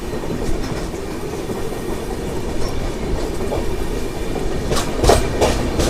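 A Bokaro Express passenger train runs along steadily, its carriages giving a continuous rumbling clatter with rhythmic wheel clicks. Near and loud throughout, with a few brighter metallic squeals near the end.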